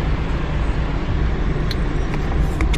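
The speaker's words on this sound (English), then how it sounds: "I am stuck in hella traffic right now." Steady traffic noise is heard from inside a car stuck in heavy traffic: a continuous low road rumble with a few faint higher ticks toward the end.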